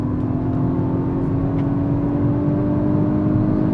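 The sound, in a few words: Hyundai i20N hot hatch accelerating in third gear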